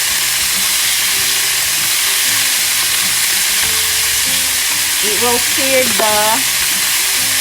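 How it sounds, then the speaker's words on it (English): Salted beef sears in a hot pan with a loud, continuous close-up sizzle and hiss, while faint background voices or tones drift in under it toward the end. "I will put a little bit of salt so the beef will have flavor and it will sear the"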